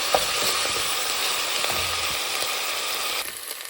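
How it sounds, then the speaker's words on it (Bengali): Ginger garlic paste frying in a pan, a dense continuous sizzle up close with faint scraping and clicking of a utensil, easing slightly toward the end. "এখন এটাকে একটু ভেজে নেব আদা রসুনটাকে"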